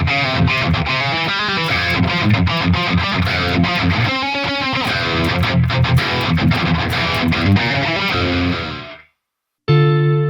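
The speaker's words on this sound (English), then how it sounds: "I made a distortion tone using the bridge humbucker pickup" A Donner Hush X Pro guitar played through its bridge humbucker pickup with a distortion tone produces loud, sustained distorted chords and riffs that ring out and then cut off near the end.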